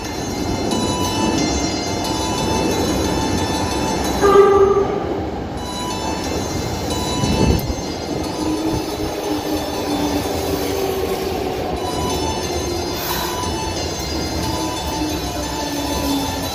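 A Kyoto Municipal Subway Karasuma Line train rumbles steadily into the station, wheels grinding and squealing briefly, a loud continuous roar throughout.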